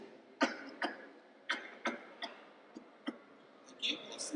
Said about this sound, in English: a much better way to do it is to cough into your hand like this.